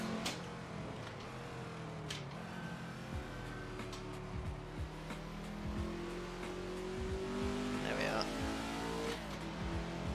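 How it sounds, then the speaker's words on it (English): A Ford GT40 with a big V8 racing at Silverstone in a video game, the engine droning steadily with rising revs and occasional shifts throughout, a loud continuous roar with someone talking over it. "Engine sounds awesome, yeah, big V8 in this"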